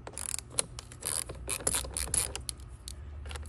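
Ratchet loosening 10 millimeter bolts on a 2018 BMW 330e drivetrain, heard as quick, uneven clicking bursts close by, alone without talk.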